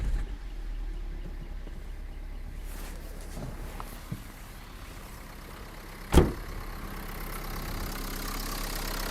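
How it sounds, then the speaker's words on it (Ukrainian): A Dacia Duster engine idles steadily with a low, even hum, close and moderately quiet, broken by one sharp knock or clunk partway through; no one talks. "Ну і бачимо, як працює двигатель."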